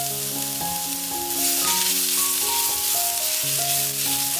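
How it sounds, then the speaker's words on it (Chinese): About ten grams of minced ginger sizzle in the leftover oil in a wok after tofu was fried, a steady bright crackle running underneath prominent background music. "爆香姜末"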